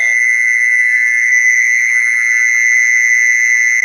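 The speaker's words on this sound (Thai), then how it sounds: "นี่คือเสียงแมงซอน" Loud and near, a repaired M39 horn speaker sounds one continuous, shrill single-pitch siren tone. It holds perfectly steady for several seconds with no speech over it.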